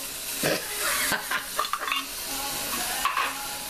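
A spoon stirs chili peppers and their juice into a pot of white chicken chili, with scraping strokes over a constant close sizzle.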